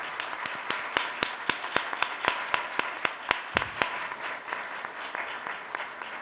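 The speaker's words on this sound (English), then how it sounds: "Please give them a round of applause for their dedication here." Audience applause at a primary election candidate forum for City Council President: a steady run of sharp, distinct claps from a modest crowd, fairly close and alone without talk.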